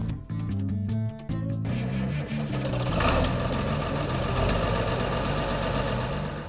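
A restored Farmall 1256 Turbo tractor engine runs steadily, a rhythmic mechanical chugging with a knocking pulse and a continuous loud drone.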